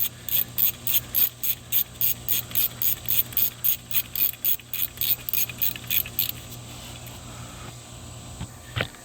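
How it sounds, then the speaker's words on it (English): A ratchet wrench snugging up bolts on a Chevy Cruze 1.4L turbo engine during oil cooler and turbo work, giving a series of rapid, even clicking bursts in steady rhythm, close up, then a few slower clicks before it stops. "So we're going to go ahead and snug these up."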